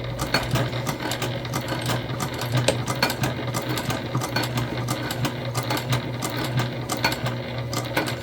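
Sewing machine stitching a Trailblazer convertible bag, a steady rapid mechanical chatter with a constant low hum and regular ticking from the needle, running continuously and alone.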